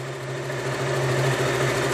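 A KTM Duke motorcycle engine with a low battery, its steady mechanical hum rising slightly in intensity as the throttle opens a little. The sound is close and continuous, with no talk over it.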